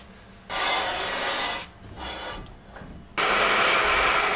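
A drill counterbores holes in a 1275 A-Series engine block, giving bursts of harsh grinding and cutting noise with a brief quieter pause between them.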